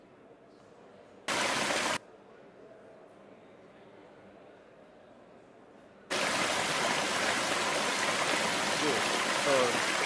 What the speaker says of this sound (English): We're going to show the log flume ride demo.